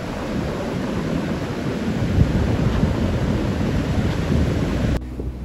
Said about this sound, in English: the sound of the ocean constantly crashing just outside your door